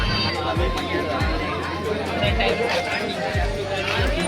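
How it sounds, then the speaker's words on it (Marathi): Dense crowd of visitors chattering at the start of the Manik Garh Fort trek, a steady outdoor babble of many voices with footsteps and movement throughout. "सगळीकडे पब्लिकच पब्लिक. पुरा जत्रा भरल्यासारखं वाटत आहे."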